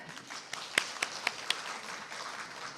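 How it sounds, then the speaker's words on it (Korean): An audience at a Korean corporate invention-program event applauds to welcome a speaker, a quiet wash of scattered clapping with a few sharper individual claps standing out. "대표님을 큰 박수로 맞아주시기 바랍니다."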